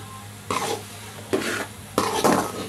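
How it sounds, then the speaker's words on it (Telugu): Bread halwa is stirred in a pan while lumps are mashed, giving three short bursts of scraping and soft sizzling against the pan, evenly spaced and close. "ఎక్కడైనా గడ్డలు ఉంటే ఇలా స్మాష్ చేసుకోవాలి ఫ్రెండ్స్"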